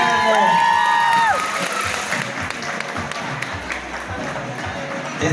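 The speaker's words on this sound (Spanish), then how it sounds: "el aplauso fuerte de todos y todas para recibirlas con ese gusto" A school crowd applauds and cheers loudly to welcome a children's dance troupe at a municipal contest, with whistles and whoops rising over steady clapping that settles into a lower, continuous roar.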